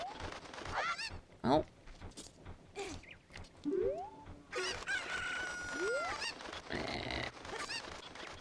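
Cucco chickens in The Legend of Zelda: Ocarina of Time give several loud clucks, squawks and crowing calls in quick, irregular bursts, with a brief spoken exclamation among them.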